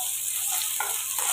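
Grated ginger paste going into spices frying in hot oil for a bitter gourd and papaya dal, giving a steady close sizzle with a few brief stirring scrapes and no voices.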